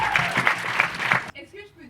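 Audience applause and cheering at a lively gathering, a short burst of clapping that cuts off abruptly, followed by faint voices.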